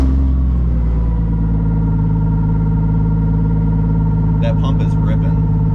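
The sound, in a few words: Volvo 240 on E85 accelerating, fuel pump whining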